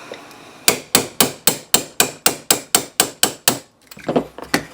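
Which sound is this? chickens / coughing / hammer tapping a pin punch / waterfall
hammer tapping a pin punch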